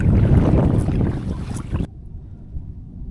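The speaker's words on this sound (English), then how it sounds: "It's a bit windy here too." Wind blows across Cold Lake in Alberta around an inflatable kayak on open water, a broad rushing gust that drops abruptly to a softer, lower rustle partway through, with no voices.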